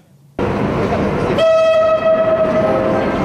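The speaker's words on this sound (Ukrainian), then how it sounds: "До Львова прибув перший поїзд інтерсіті з полученням Київ Перемишель." An Intercity train on the Kyiv–Przemyśl route arrives in Lviv, rumbling loudly on the rails before a long, steady horn blast rings out over the rolling wagons.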